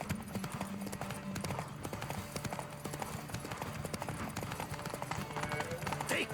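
A horse gallops in The Witcher III: Wild Hunt, with rapid rhythmic hoofbeats pounding steadily throughout and a voice speaking over them.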